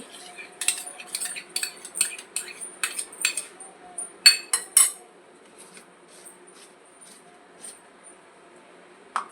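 A spoon stirs and clinks through alu vadi batter of salt, sesame seeds, curd and ground paste in a bowl, with a run of quick close scraping taps early on, then quieter, sparser strokes.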